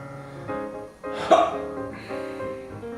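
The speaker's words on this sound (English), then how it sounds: "It's so hard to record a movie when you have the hiccups." A person with hiccups lets out one sharp hiccup in the middle of a quiet indoor recording, with soft voiced sounds before and after.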